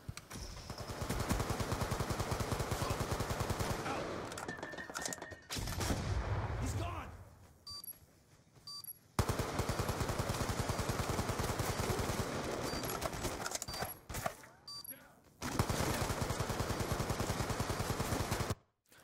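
A video game gun fires in long rapid bursts broken by short pauses, loud and close, with someone speaking briefly.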